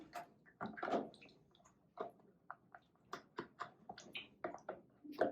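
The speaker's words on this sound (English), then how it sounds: "So you just want to keep mixing it until it's all combined." Glue and water stirred together into a slime mixture, giving soft, irregular wet squelches and clicks at close range, quiet and unhurried.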